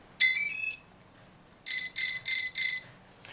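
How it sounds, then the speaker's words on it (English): Electronic beeping from a quadcopter's speed controllers: a single bright tone, a pause, then four quick, evenly spaced beeps signalling a 4S battery, clear and close with no talking. "We hear the 4 beeps corresponding to the 4S battery."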